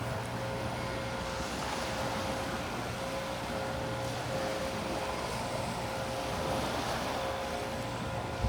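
A leaf blower whines continuously near a beach, a steady drone mixed with wind noise and surf hiss, with no break in its level.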